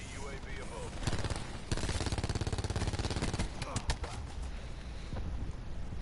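An LMG machine gun in Black Ops 4 fires long, rapid bursts, close and loud, the evenly spaced shots running together over steady game background noise.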